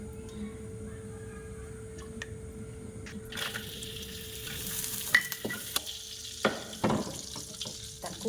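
Dried shrimp fry in a pan with low, steady sizzling that swells after a few seconds, broken by occasional clinks and scrapes of a utensil stirring; no voices.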